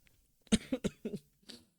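A handful of short, sharp coughs in quick succession, fairly close, followed by one more cough after a brief pause.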